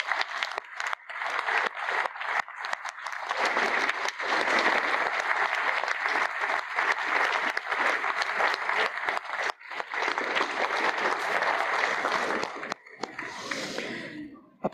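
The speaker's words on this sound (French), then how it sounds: "je vous demande de les mettre à l'honneur en les applaudissant chaleureusement" Warm, sustained applause from a crowd at a municipal New Year's wishes ceremony in Alizay, a dense clapping wash lasting over twelve seconds before thinning out and fading.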